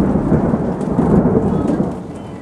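Deep rolling thunder rumbles loudly and continuously over steady rain during a thunderstorm in England, with no voices.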